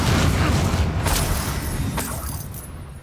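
A Bombarda spell explosion in the Hogwarts Legacy video game: a loud, deep rumbling boom that fills the clip, with a couple of sharper bursts cutting through before it slowly fades.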